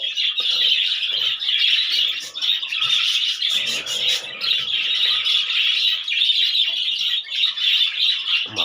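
Several newly hatched pet bird chicks chirp and squawk in a dense, continuous chorus, loud and close, with rapid overlapping calls throughout and no talking.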